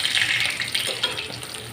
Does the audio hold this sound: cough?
no